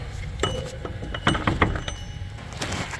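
A front axle on a 2014-2019 Chevy/GMC truck slides out of its wheel bearing, heard as scattered metallic clinks and scraping knocks over a steady low hum.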